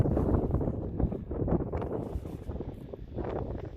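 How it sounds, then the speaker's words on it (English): Wind buffeting a microphone outdoors beside an old scrap farm bulkhead, a dense continuous low rumble with gusty swells and a faint rustle on top, heard alone. "Let's see if I can get you out of the wind here."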